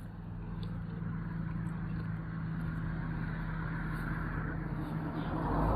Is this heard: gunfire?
no